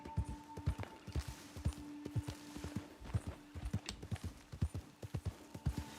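Horse hooves clip-clop steadily while riding in Red Dead Redemption 2, a brisk repeating gallop rhythm of close, distinct thuds with a faint steady hum beneath and no talking.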